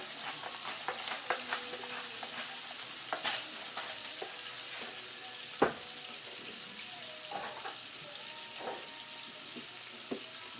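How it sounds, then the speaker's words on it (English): Bacon and onions fry in a little olive oil in a pan for pasta carbonara, a steady close sizzle broken by scattered scrapes and clinks of stirring, with no talking. "We just have bacon and onions in the pan with a little olive oil right now."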